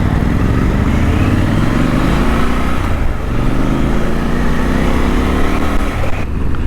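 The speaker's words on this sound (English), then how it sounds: "And this bike sounds fantastic. The exhaust note is just brilliant." A motorcycle engine drones steadily and loudly while riding, its exhaust note rising and falling through gear changes, with constant wind rumble underneath.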